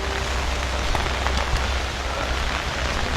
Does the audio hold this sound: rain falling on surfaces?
yes